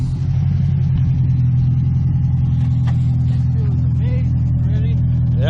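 A Honda B20 VTEC car engine after an oil change, running with a loud, steady low mechanical rumble close by, while people talk over it.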